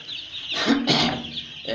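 Cold young chicks huddled together in the corners of a brooder give a few loud, close, harmonic peeping calls in short bursts.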